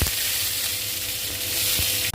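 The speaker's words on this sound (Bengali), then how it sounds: "এবার আলুগুলো কড়াই দিয়ে দিচ্ছি।" Sliced potatoes sizzle and fry steadily in a hot wok, a continuous close crackling hiss that keeps an even level throughout with a brief stir or clatter near the end.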